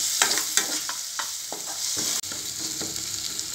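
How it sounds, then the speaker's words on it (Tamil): Tomato sizzles steadily in a pan with turmeric, chili powder, garam masala and cumin powder for a mini puri egg podimash, with a spoon scraping and stirring in repeated strokes close by. "மசாலாலாம் பச்சை வாசனை போகிற அளவுக்கு வதக்கி விட்டுக்கோங்க"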